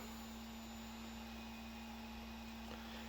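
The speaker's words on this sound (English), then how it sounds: "the Ender 3 S1 Auto Home. So now it'll go home." An Ender 3 S1 3D printer running its auto-home routine gives off a steady, faint mechanical hum with a constant whine, unbroken for the whole stretch and with no voices.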